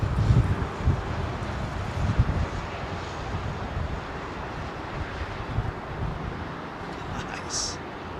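A Turkish Airlines Boeing 777 taxis at London Heathrow, its engines a low distant rumble mixed with wind noise, with someone talking over it.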